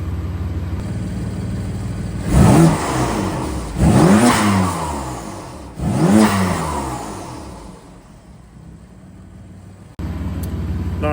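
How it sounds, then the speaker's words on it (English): BMW M4 F82 with a VRSF front-mount intake, revved from idle: three sharp rising-and-falling revs spaced about two seconds apart, close and loud, settling back to a steady idle rumble between and after them. "here is a clip of how it sounds just revving it up"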